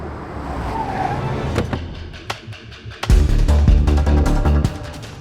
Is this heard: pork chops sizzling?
no